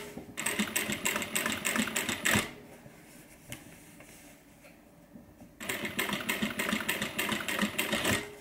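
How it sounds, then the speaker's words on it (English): A sewing machine stitching a messenger bag runs in two fast, steady bursts of rapid mechanical clatter, close and loud, with a quieter pause between them. "We're just going to stitch straight over the lines that we had before."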